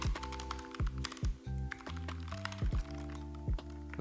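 Fingers type code on a computer keyboard in quick uneven clicks and taps, set against steady tonal background music.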